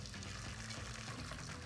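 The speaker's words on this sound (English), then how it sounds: "You take and pour the brine on the cucumbers." Hot pickling brine, just off a boil, pours from a pot onto cucumbers for sweet pickles, a steady liquid gush and splash that fills the whole short moment at low level with no talk.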